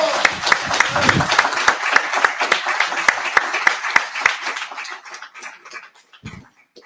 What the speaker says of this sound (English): Can you give yourselves a round of applause?